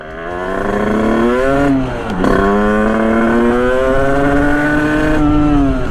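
A Sherco Supermoto 50 with an AM6 engine and big bore kit runs loud and close, its buzzing two-stroke note climbing steadily, dipping briefly, then revving up again and holding high.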